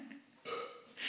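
A drunk man hiccups in short voiced bursts, a low catch followed by a brighter hiccup-burp sound, two close events heard alone in just over a second.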